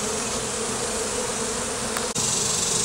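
Honey bees from a massive hive built inside a closet buzz in a dense, continuous drone, loud and close, with many insects overlapping and a brief dip near the end.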